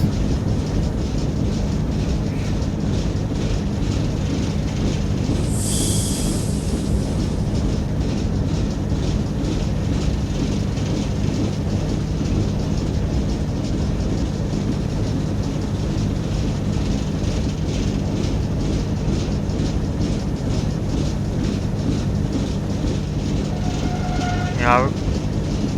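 Class 08 diesel shunter locomotive from Train Simulator running steadily, a continuous low diesel engine drone with rail rumble throughout, plus a brief higher whine midway and a short rising tone near the end.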